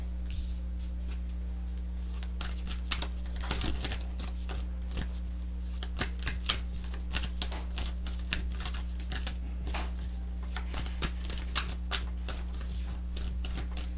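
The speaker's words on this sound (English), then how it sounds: "That was a horrible shuffle." Tarot cards are shuffled by hand, giving bursts of quick, irregular papery clicks and riffles, close to the microphone over a steady low electrical hum.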